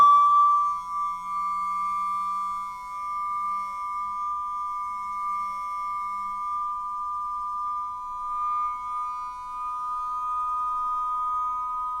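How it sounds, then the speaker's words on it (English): Two steady pure sine tones sound together a perfect fifth apart, one high and bright, one lower and softer, blending into a constant sustained interval. "And there we come to the perfect fifth."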